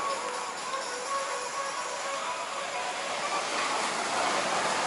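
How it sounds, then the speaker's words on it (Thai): Sea waves wash continuously onto the shore of a bay in Phuket at night, a steady, full surf rush with no talk. "ก็มีคลื่น มีกลิ่นทะเลครับ"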